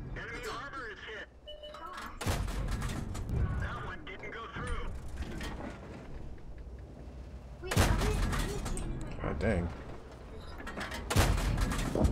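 Tank cannon fire in the World of Tanks video game, a tier 6 T21 battle, with heavy booming blasts at three separate moments over steady engine and mechanical rumble while a player talks.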